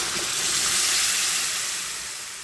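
Hot water poured onto frying spices in a pan for a fish curry with okra and sarputi fish, a loud, hissing sizzle that swells and then slowly fades, with no talking.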